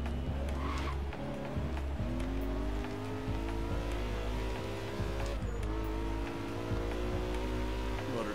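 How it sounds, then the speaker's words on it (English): A Liberty Walk BMW E92 drift build in Forza Horizon 3 revs hard with shifting engine tones and continuous tire squeal while drifting, loud and steady throughout. "Man, this is damn loud."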